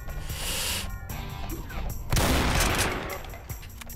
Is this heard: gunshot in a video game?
yes